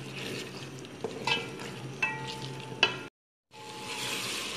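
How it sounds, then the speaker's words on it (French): Aubergine sauce with broth and a pinch of salt simmering in a pot, with occasional stirring clinks over a soft bubbling hiss, fairly quiet, then a brief silence before the simmering resumes. "On remue bien et on laisse mijoter pendant 5 minutes."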